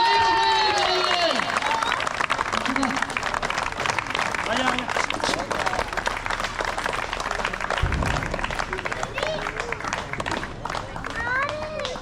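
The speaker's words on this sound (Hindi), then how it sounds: "ताली रुकनी नहीं चाहिए, ताली रुकनी नहीं चाहिए।" An audience keeps up steady, continuous clapping at a Diwali party in ParamHans Park, a dense crowd sound with cheering and children's voices, while someone talks loudly over it.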